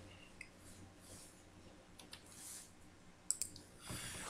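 A computer mouse clicking a Get Data button on a web page: a few soft, faint clicks over quiet room noise, with one sharper click near the end.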